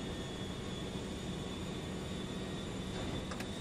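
An airplane landing in GTA V gives off a steady, broad engine and wind roar that stays loud and unchanging throughout, with no voices over it.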